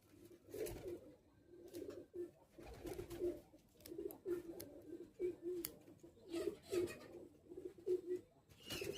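A pigeon coos close by in soft, rhythmic, repeated phrases, a low throaty call returning every second or so over a quiet background with faint scuffs.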